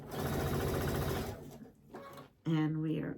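A sewing machine stitching flying geese quilt blocks runs in a steady fast rhythmic whir up close, stops briefly, then starts again, with a voice talking over it.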